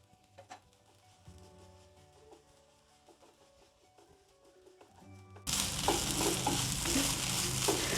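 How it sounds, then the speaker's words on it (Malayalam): Okra sautés for vendakka mutta thoran; after several quiet seconds with faint clinks, a loud, close sizzle of frying and stirring suddenly takes over and continues steadily. "നമ്മുടെ വെണ്ടക്ക ഒന്ന് വഴന്ന് തുടങ്ങിയിട്ടുണ്ട്"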